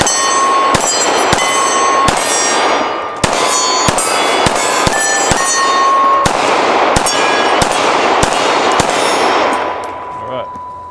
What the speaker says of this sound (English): I'm going to shoot.